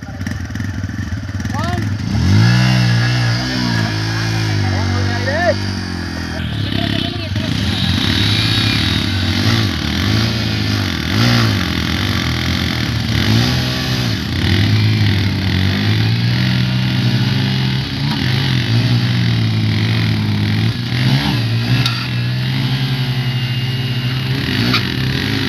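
A Bajaj Pulsar N160 and a TVS Raider 125 motorcycle rev hard during a rope tug-of-war contest between them. Loud, close engine revving rises and falls repeatedly in uneven bursts, with people talking over it.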